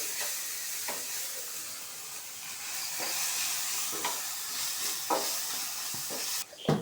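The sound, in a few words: stirring spice mix with garam masala in a pan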